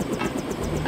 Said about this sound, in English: Cool helicopter.